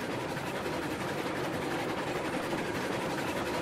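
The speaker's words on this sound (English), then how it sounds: "This is like a nice big train. It's a smooth ride, too." An iron ore train running in the video game Railroads Online, a steady, faint, even rumble of rolling wheels and engine that stays constant throughout with no breaks.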